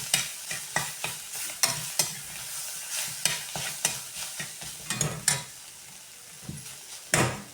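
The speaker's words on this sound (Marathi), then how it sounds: "छान असं कांद्यामध्ये परतून घ्यायची ही भाजी." Drumstick leaves and onions are sautéed in a pan, a spatula scraping and tossing in a loose rhythm of a dozen or so strokes over a soft, steady sizzle, close and fairly quiet.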